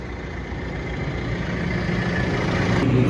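Tractor engine pulling a stubble cultivator through compact ground at about 5 km/h and 1800 rpm, heard from inside the cab as a steady, loud low drone that swells slightly over the clip, with no talk.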